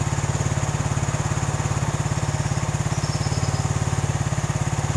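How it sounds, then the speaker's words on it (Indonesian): A Suzuki Satria FU 150 motorcycle engine idles steadily up close, a loud, even, rapid thumping pulse that holds constant throughout with no talking. "Inilah dari suara mesin Satrio-nya"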